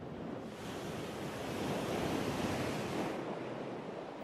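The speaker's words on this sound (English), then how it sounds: "The richness of Starbuck's reef ends with the breaking waves." Waves break on the reef at Starbuck Island in the Pacific, a continuous close roar of surf that swells in the middle and eases slightly, with no voices.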